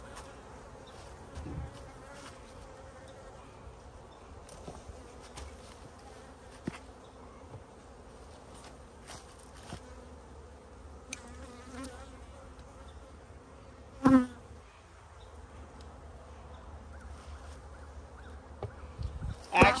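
Honeybees buzz around backyard beehives with a steady, low, constant drone that runs throughout, a few louder passes and clicks close by, and no talk.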